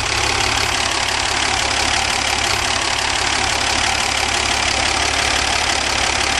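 Slant six engine of a 1977 Dodge van idling after a carburetor cleaning, a loud, close, steady running drone with no talk over it.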